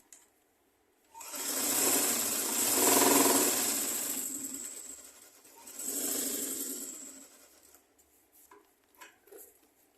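A sewing machine stitches around a diamond-shaped neckline in two loud, close bursts of rapid whirring, the first longer than the second, then falls quiet with faint handling noises and no speech.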